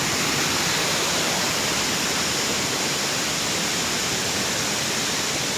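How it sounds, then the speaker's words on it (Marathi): A waterfall in the Konkan forest near Kankavli roars as a loud, steady, broadband rush of falling water, constant and unbroken throughout, with no voices. "धबधब खतरनाक."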